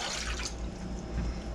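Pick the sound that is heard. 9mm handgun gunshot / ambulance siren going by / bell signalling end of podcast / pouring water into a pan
pouring water into a pan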